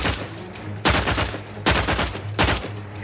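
Plasma weapon fire in The Outer Worlds 2, three loud crackling bursts roughly a second apart, each a sharp broadband blast that trails off, with no speech.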